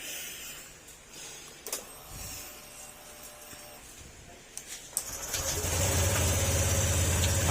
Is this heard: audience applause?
no